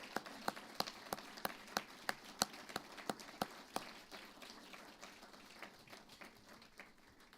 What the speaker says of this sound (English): Let's have another round of applause for all of our outstanding honorees.